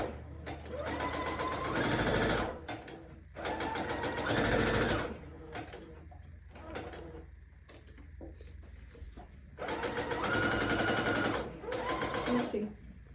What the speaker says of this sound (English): I'm about to sew around it, flip it over, and then sew over it